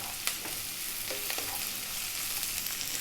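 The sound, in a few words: garlic sizzling in a pan with bacon and onions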